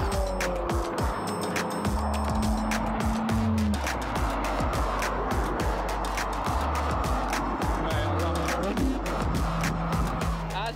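Cars on a road pass one after another, their engine notes rising and falling as they go by, some revving hard, with occasional faint voices in the background.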